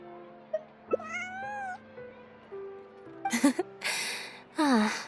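A cute kitty gives several clear, close meows with rising and falling pitch, including a drawn-out caterwaul and short breathy bursts, some overlapping soft background tones.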